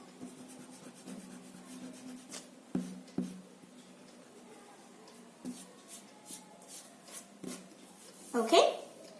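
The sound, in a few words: eraser rubbing pencil line on paper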